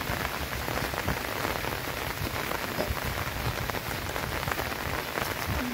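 Heavy monsoon downpour in rural Konkan, with flooded fields, pours as a loud, continuous roar of rain hitting surfaces and water, close and unbroken, with no voices.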